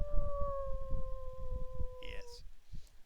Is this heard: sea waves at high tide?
no